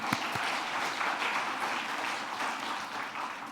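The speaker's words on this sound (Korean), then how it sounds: "박수 한번 합시다." A church congregation breaks into steady applause during a worship service, many hands clapping together in a full, even burst that holds throughout.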